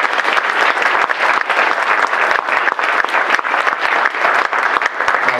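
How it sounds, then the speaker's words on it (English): A meteorology club event audience gives a loud, sustained round of applause, dense steady clapping that fills the room without pause. "so give him a big round of applause."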